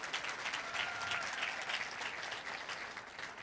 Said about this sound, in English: Round of applause, please, for Shiro.